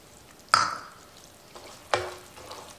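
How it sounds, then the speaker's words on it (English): Almonds being stirred into hot caramel honey and saffron candy in a pan, two distinct scraping strokes with a soft sizzle, close and fairly quiet, no talking. "I'm gonna turn on the heat again and I'm gonna mix it."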